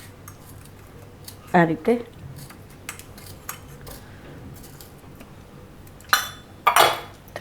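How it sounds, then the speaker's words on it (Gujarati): A knife cuts tomatoes into medium pieces in a home kitchen, giving a few sharp clinks and knocks in two short bursts with quiet gaps between, while a voice speaks briefly. "હવે આ ટમેટા છે એને આપણે સુધારી લેવું આ રીતના મીડિયમ"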